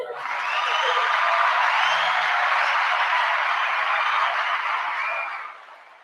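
A canned applause sound effect plays on a hip hop talk show: a dense, bright burst of clapping and crowd cheering that holds steady for about five seconds, then fades out quickly, with no talk over it.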